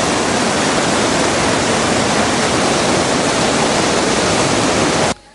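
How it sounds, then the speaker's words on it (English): Water rushes through fourteen opened spill gates of the Rajangane reservoir after heavy rains, producing a loud, steady, broadband roar that continues unbroken before cutting off abruptly at the end. "14 spill gates of the Rajangane reservoir have been opened"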